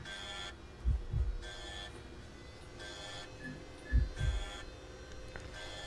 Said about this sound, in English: I can hear a heartbeat. My health's really low.